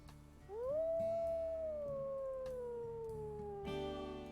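Several wolves howl in the video game WolfQuest, a long sliding howl rising then slowly falling, with a second voice joining above it and a fresh chorus swelling near the end, loud and close with no talking.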